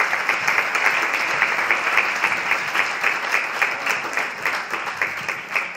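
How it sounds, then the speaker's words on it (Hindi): An audience claps for participants at an open house discussion on meditation, a steady, fairly loud round of applause with a slightly rhythmic pulse running throughout. "Well done all the participants, जोरदार तालियां।"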